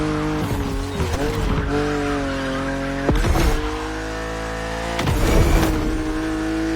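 A BMW Z4 E9 coupe cabriolet racing in The Crew Motorfest, its engine droning with shifting pitch and punctuated by bursts of tire squeal and skidding, loud and close throughout.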